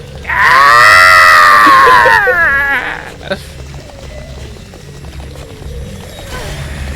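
A monster in the Silent Hill 3 video game lets out a loud, harmonic, cat-like screech lasting about two seconds, breaking into a warbling tail before fading into quieter game ambience.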